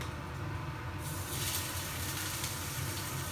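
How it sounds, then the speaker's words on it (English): Steady broadband sizzling of halloumi frying in a pan over medium heat, a soft hiss that swells after the first second and holds constant, with no talking. "So you should get a nice sizzle when you put it in"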